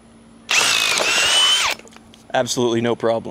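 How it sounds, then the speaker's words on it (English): A Bosch 1330c drill in speed 2 drill mode bores with a 1/2-inch twist bit in one loud, steady whine of about a second, then someone speaks. "1/2-inch twist bit in speed 2 drill mode."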